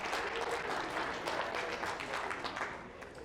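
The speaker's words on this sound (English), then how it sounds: "Give those guys a round of applause." A roomful of audience members at a presentation applaud in a dense, even burst of clapping that holds steady for a few seconds and starts to fade.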